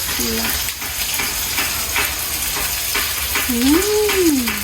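Food frying loudly in a pan while cooked with leaves, a steady close sizzle with stirring scrapes, a brief high whistling tone sounding twice over it.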